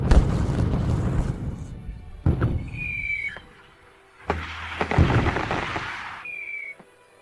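Fireworks burst and boom at night in several loud clusters with crackling tails and a couple of whistling rockets, the blasts spread across the clip with short quieter gaps between them.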